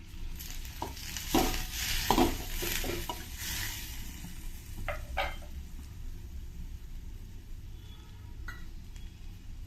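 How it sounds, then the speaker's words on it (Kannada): Onion and small-cut tomato fry in tempering oil in a pan, giving a soft, steady sizzle broken by several sharp scraping stir strokes of a spoon. The sound is close but fairly quiet, with no talking. "ಈರುಳ್ಳಿ ಸ್ವಲ್ಪ ಫ್ರೈ ಆಗ್ತಿದ್ದ ಹಾಗೆ ಅದಕ್ಕೆ ಸಣ್ಣ ಕಟ್ ಮಾಡಿರೋಂತಹ 1 ಟೊಮೆಟೊ ಸೇರಿಸ್ತೀನಿ"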